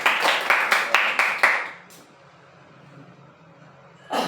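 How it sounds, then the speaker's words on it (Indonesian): Group of participants applauding in a school session, a rhythmic burst of clapping that fades out after about two seconds, leaving quiet room tone before a brief sound returns at the end. "Tepuk tangan dulu"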